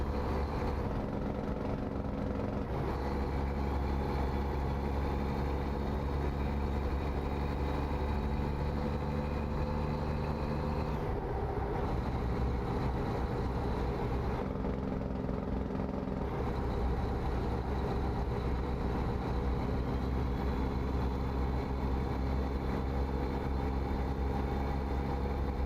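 A truck engine idles in American Truck Simulator, a steady low rumble with a droning hum that holds for the whole stretch, with slight shifts in tone at a few points but no revving.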